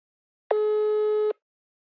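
A single steady phone tone sounds while a call is being dialed, one clean electronic beep lasting under a second, loud and isolated against silence.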